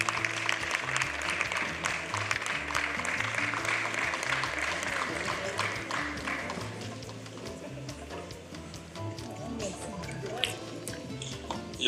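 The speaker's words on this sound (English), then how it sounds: "A round of applause for him, please." Applause from an audience at a public health event, a dense round of clapping that thins out partway through and gives way to scattered noise and murmuring.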